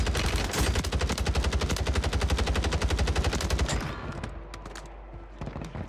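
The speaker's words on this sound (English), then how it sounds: "I'm getting shot from the hill now" Rapid automatic gunfire in a shooter video game, a dense, loud stream of shots for about four seconds, then trailing off into scattered quieter pops and echoes.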